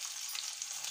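Fish frying in a skillet, a steady close hiss of hot oil crackling without pause for under a second, no voices present.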